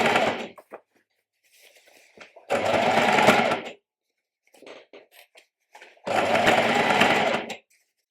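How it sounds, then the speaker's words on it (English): A sewing machine runs straight stitches along a dress waistline, two long, steady whirring bursts separated by quiet gaps and a few brief, softer runs of the needle. "I'm going to start by sewing around the front of that waistline"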